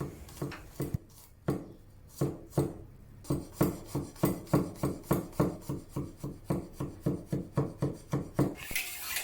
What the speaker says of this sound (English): Coarsely chop some garlic.